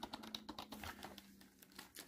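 Typing on a Logitech K400 Plus wireless keyboard, a quick run of light, close key clicks in an uneven rhythm with a faint steady hum beneath, fading briefly before a final tap.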